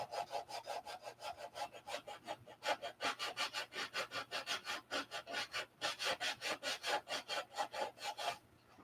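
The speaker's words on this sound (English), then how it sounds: "I'm sanding this back in this direction and out in that direction" A wing tip is hand sanded with quick back-and-forth strokes, a crisp, rhythmic scratching of about two strokes per second, close and clear, pausing briefly a couple of times and stopping near the end.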